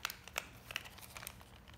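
A small plastic bag holding an embroidery needle crinkles softly in a series of quick, faint rustles and crackles close by, with no talking.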